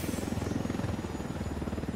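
A Black Hawk helicopter lifts off in the video game Ghost Recon Wildlands, its rotor giving a steady, fast, loud thumping chop with a buzzing drone behind it.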